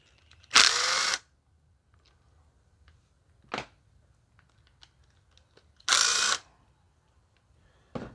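Short bursts from a power drill backing bolts off a Bolens 21-inch push mower, two loud whirring runs about five seconds apart with faint clicks and small taps between them, no talk.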